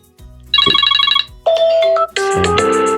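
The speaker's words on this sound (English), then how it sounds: "Now tap on ringtone here, and you have the available ringtones here." Several short ringtone previews play in turn on an iPhone 14 Pro, bright electronic melodies with chiming tones, each cut off abruptly before the next starts, loud and close.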